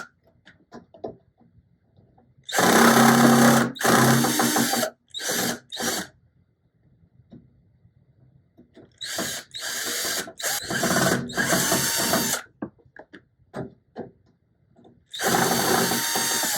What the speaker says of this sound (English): I had to get my drill.